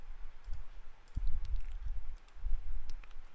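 Several soft clicking keystrokes as a command is typed on a computer keyboard, in short bursts at close range over low room noise.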